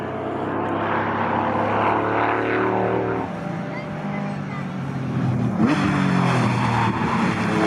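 Racing cars, among them a Ginetta G20, run at Snetterton circuit with a sustained engine roar that swells and shifts as cars pass, and a commentator talks over the noise.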